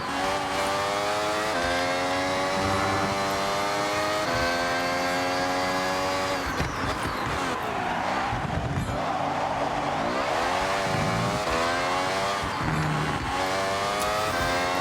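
Alfa Romeo SE 048SP race car in the Forza Horizon driving game, its engine revving above 13,000 RPM with loud, sustained high-pitched wails that climb and drop through repeated gear shifts, tire squeal mixed in.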